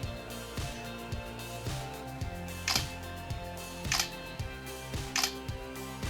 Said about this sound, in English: and you can hear the shutter sound.